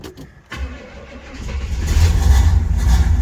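An old car engine cranks briefly, then catches and fires up, its low rumble building and settling into a steady, loud idle close by.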